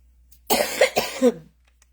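A single burst of harsh coughing, two or three quick hacks close to the mic, with silence around it.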